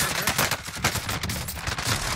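Fast automatic gunfire in a Call of Duty match, a dense, continuous rattle of shots with crackling bursts and booming impacts, loud and unbroken throughout.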